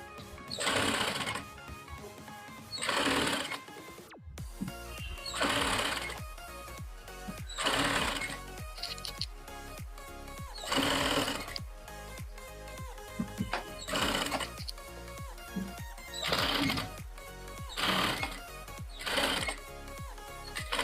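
A sewing machine stitches along a folded blouse strip in repeated short bursts of rapid whirring, each run separated by brief pauses, close and clear with no talk.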